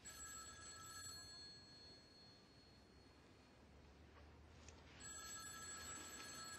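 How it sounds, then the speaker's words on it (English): An old-style telephone bell rings in a quiet room, a clear electronic trill that sounds, pauses, then starts again, moderately loud with no talk over it. "Aren't you going to answer the phone?"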